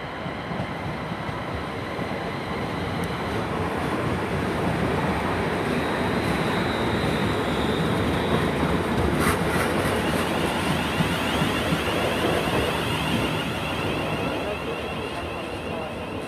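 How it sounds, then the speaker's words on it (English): London Midland passenger train to Northampton arriving at Coventry station, a loud, continuous rumble of wheels and engine with rattling carriages that stays steady for the whole stretch, up close, with a brief squeal partway. "is the 1300 service to Northampton from Birmingham New Street by London Midland"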